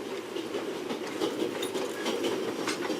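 A train rolls along its rails in the video game The Raven: Legacy of a Master Thief, giving a steady, dense rumble with faint clicking and patter over three seconds, no voices.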